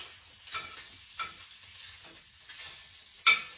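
Bacon fries quietly in a pan with a soft, steady sizzle and faint crackle. A few gentle stirring scrapes come in rhythm, and a sharp click sounds near the end.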